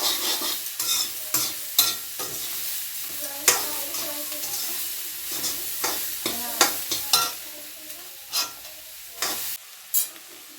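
Corn kernels fry in oil with chili and salt, crackling and sizzling while a utensil stirs and scrapes them around the pan in irregular bursts, close and fairly loud, with no talking.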